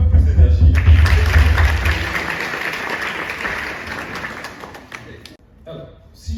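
Audience applause at a motivational talk, loud dense clapping with low rumble at first, thinning and fading over several seconds before a few scattered claps and a brief voice near the end.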